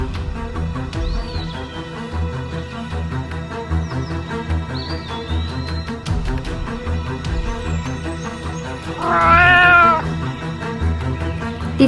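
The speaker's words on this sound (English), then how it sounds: "These are our new kittens at the farm." Kittens meowing at a farm, with one loud, rising cry standing out near the end over a busy, steady background of other sounds.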